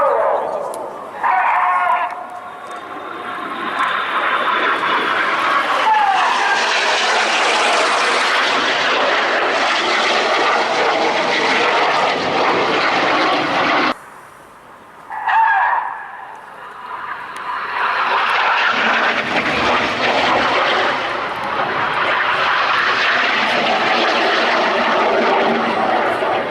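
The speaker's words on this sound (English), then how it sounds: "They're going to fly opposition barrel rolls." Red Arrows jets at the RIAT airshow fly opposition barrel rolls, their loud engine roar filling the air in two long sweeping passes split by a brief lull, with a commentator talking throughout.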